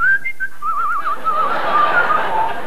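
A person whistles a bright, wavering tune up close, with a rising trill and several short held notes; the whistle imitates a confident whistle.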